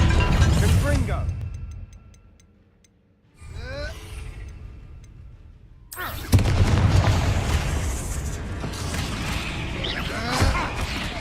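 A Confringo blasting curse goes off in Hogwarts Legacy, a sudden loud burst at about six seconds followed by a sustained roaring rumble and crackle inside a tomb, with a voice speaking before the blast.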